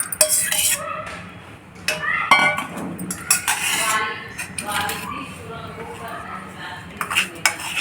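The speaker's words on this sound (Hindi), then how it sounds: "अब इसको हम मिक्सर के जार में डाल देंगे पीसने के लिए।" Cooked, cooled mango for aam panna is transferred into a mixer jar, with clinks of a spoon against steel and scattered scraping and tapping, while someone talks over the kitchen sounds.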